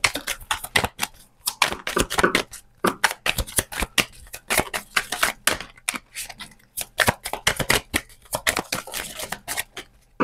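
Tarot cards are shuffled by hand in rapid bursts of crisp riffling and flicking, close and fairly quiet, with uneven clustered snaps running continuously for about ten seconds.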